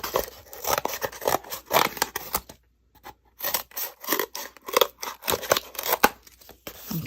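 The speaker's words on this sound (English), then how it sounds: "I'm going to go ahead and trim a bigger piece of cardboard" Scissors trim a piece of cardboard for a foam stamp, producing close, crisp crunching snips in irregular strokes, a short silent gap, then more cutting.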